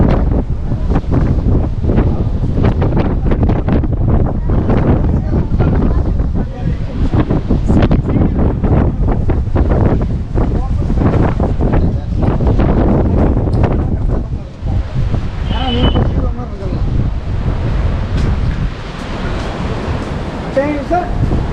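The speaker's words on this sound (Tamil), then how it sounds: "காற்று அப்படியே தள்ளுது." Strong wind buffets the microphone in a steady roar at the Kanyakumari seashore, with surf rumbling underneath and a voice talking through the gusts.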